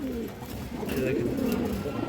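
A Bagha Khaki pigeon gives low, rolling coos close by, repeated throughout the short stretch, while someone talks over the birds.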